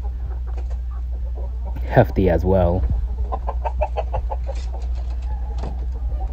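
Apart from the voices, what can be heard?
brooding hens clucking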